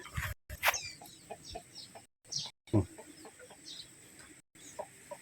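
Chickens clucking at a farm, scattered soft clucks and short calls from several birds at varying distances, fairly quiet, with occasional dropouts and no clear talking.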